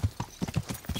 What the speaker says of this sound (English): it'll be while I'm riding my horse like this